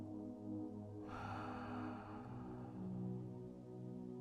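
A single slow breath is drawn in and let out close and quiet, the soft airy rush swelling then fading over a few seconds against a faint low background hum.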